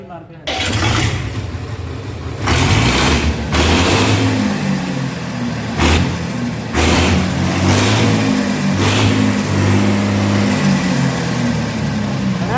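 An engine is started with a sharp catch, then runs loud and close, its low throb rising and falling through several revs; people talk over it.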